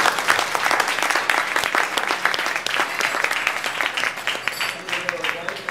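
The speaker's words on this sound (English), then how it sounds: "Big round of applause for Phillip's Espresso" A crowd at a regional barista championship gives a loud, sustained round of applause, with dense clapping throughout that eases slightly toward the end.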